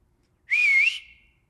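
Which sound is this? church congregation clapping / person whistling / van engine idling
person whistling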